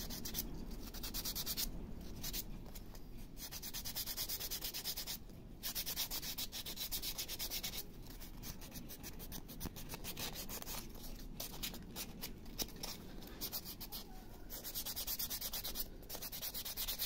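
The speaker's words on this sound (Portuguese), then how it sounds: "Começa a passar a lixa, começa a aparecer" Sandpaper rubbing over a carved wooden owl, a steady coarse scratching in repeated back-and-forth strokes with brief pauses, close and continuous with no talk.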